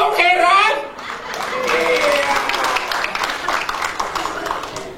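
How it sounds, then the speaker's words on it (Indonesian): Church congregation applauding during a sermon, a broad clapping wash that rises after a preacher's loud voice fades and carries on steadily, thinning slightly toward the end. "Tepuk tangan dong"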